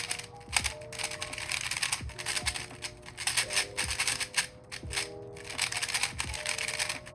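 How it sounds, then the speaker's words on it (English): An old, worn Ferrocore 3x3 speed cube is turned in a steady run of quick, dry plastic clicks and scrapes, close and fairly loud, with no talking. "This is the sound of the old Ferrocore."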